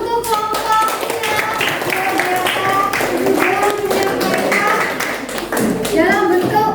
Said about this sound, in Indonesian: Ya, aplaus untuk kelompoknya.